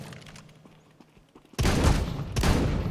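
Gunfire in a shooter game, a quiet lull broken by a sudden loud close volley of rapid shots that continues with a second burst.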